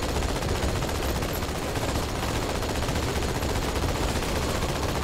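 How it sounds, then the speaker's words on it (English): Gunfire from a passenger riding shotgun in Halo 2 is buried in a loud, dense, unbroken wall of battle noise that stays at the same level the whole time. "someone riding shotgun, who every now and again shoots out a shot or two"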